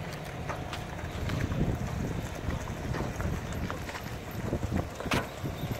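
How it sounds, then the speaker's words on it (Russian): A boat engine runs steadily beneath wind and water noise off Hawaii, with occasional knocks and splashes. "А как чисто работает двигатель"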